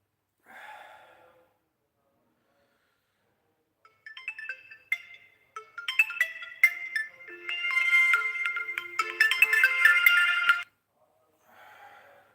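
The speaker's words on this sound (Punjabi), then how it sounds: "ਸੌਰੀ ਵਿੱਚ ਫੋਨ ਆ ਰਿਹਾ ਸੀ" A phone ringtone of an incoming call plays during a Sikh devotional livestream, a bright melodic tone rising in several bursts over a few seconds at moderate loudness, with brief breathy noises before and after and no talk over it.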